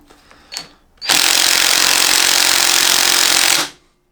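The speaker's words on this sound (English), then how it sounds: "I'm hoping that my impact driver will start it off" Impact driver on a Triumph Bonneville T140 front fork, trying to loosen the fork screws: a couple of faint taps, then one loud, steady, dense hammering burst that holds for about two and a half seconds and stops, alone without talk.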